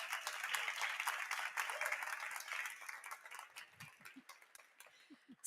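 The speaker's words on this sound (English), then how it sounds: "I want you to give them a round of applause" A seated audience at a venture-day morning event applauds a panel, with quiet distant clapping that thins out into scattered individual claps, and a voice faintly heard near the end.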